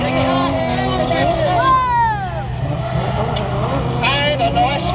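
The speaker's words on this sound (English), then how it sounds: "And a nice throttle clip." Drift car at a British Drift Championship practice round at Donington, engine screaming at full throttle and sweeping up and down in pitch, heard from trackside amid crowd babble and commentary.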